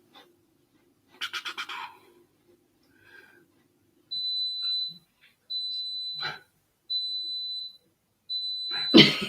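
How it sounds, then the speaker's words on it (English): A kitchen dishwasher signals the end of its cycle with four steady, evenly spaced electronic beeps, each about a second long, at moderate distance, following a few brief clattering and rustling sounds. "If you hear a beeping going on in the background, it's fine. It's the magic dishwasher."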